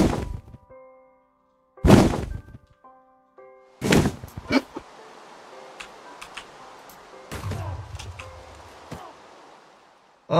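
A fireball blast hits a witch in Minecraft, a few sharp thumps and whacks with short game beeps between them, then a scatter of lighter clicks and impact noises.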